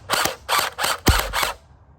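An UnlocX battery-powered, fully automatic rechargeable gel ball blaster fires five quick sharp bursts in a steady rhythm, each a short mechanical whir-and-pop, loud and close with no voices.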